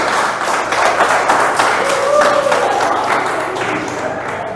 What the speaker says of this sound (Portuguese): Pode aplaudir o Senhor, porque a irmã começou e você se continuou.